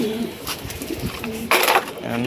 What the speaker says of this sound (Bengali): কবুতর দেখেন কি অবস্থা